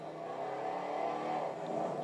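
A car engine revs steadily in a video game, a faint, continuous droning hum that holds roughly level throughout.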